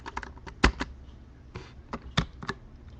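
Typing on a computer keyboard, a run of close, sharp key clicks in uneven bursts with a few louder strikes and short pauses, with no voices.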